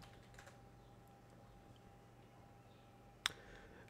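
Faint keystrokes on a computer keyboard as a Flutter Doctor command is typed on a Linux machine, barely above a steady electrical hum, with one sharper key click near the end.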